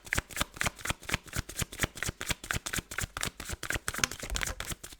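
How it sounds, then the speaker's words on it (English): Tarot cards being shuffled by hand, a rapid run of crisp riffling bursts repeating in a steady rhythm, close and clear with no talk. "It's exhausting to shuffle."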